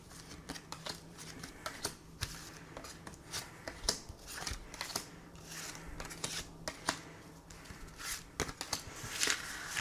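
Tarot cards being shuffled for a reading, with soft, rapid riffling and flicking of cards in uneven bursts, close but quiet over a faint steady hum.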